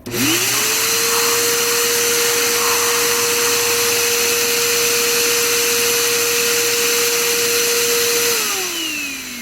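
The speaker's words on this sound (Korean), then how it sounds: "그렇기 때문에 이럴 때 송풍기가 필요한 거죠" A powerful air blower for drying an inflatable bounce house spins up and runs steadily with a loud, constant whine and broadband rush, then winds down near the end.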